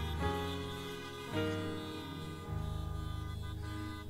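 Car horns honk in a church parking lot after a drive-in service, with several sustained, overlapping tones sounding at a moderate distance and no voices.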